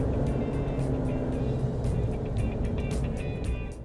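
A Suzuki Jimny 5 Door with its 1500 cc K15B engine revs steadily up close, a continuous loud engine drone with no voices.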